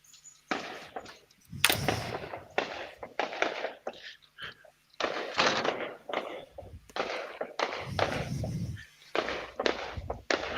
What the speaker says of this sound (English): I don't mind the sound of fireworks these days